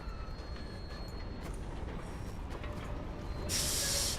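A train rolls past in Red Dead Redemption 2, a continuous rumbling clatter that builds into a loud hissing burst of steam near the end, with no speech.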